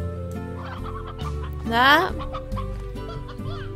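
Chickens and a rooster clucking in the Slime Rancher video game, several bird calls layered over steady game music, with a louder squawk in the middle and a brief spoken word.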